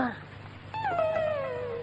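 A dog whimpers inside a house in a Tamil comedy film: a long, high, wavering whine that slides downward, close and fairly loud, just after a short voice.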